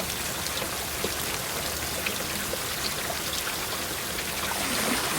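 Heavy rain pouring down on a vegetable garden with spring onions, a constant dense hiss of drops striking leaves and soil, loud and even throughout with no voices.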